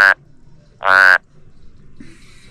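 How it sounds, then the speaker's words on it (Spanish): A frog croaks outdoors at the Presa Iturbide reservoir, two loud close calls about a second apart, then faint rustling background. "Sí, es una rana muy bonita."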